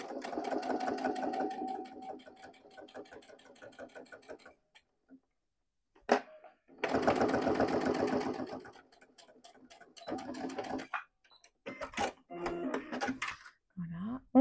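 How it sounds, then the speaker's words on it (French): Sewing machine stitching along a marked line on a wallet, running in bursts with a steady rapid ticking rhythm, pausing between runs, close and fairly loud. "Je vais coudre le long du tracé."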